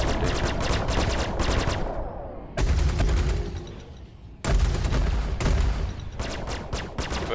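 Ship weapons in Star Citizen fire in long rapid automatic bursts, loud and close, broken by two short pauses where the fire cuts out before resuming.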